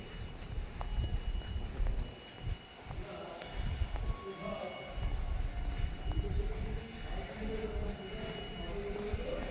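A metro train rumbles and clatters steadily through the whole stretch on the Dum Dum route in Kolkata, a continuous loud mechanical roar with people talking faintly in the background.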